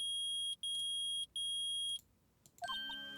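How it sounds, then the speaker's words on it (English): Metal detector in the Phoenix Wright: Ace Attorney video game beeping: two or three long, steady electronic tones separated by brief gaps, followed by a short chime-like jingle, loud and alone. "Nick, it's beeping. The metal detector found something."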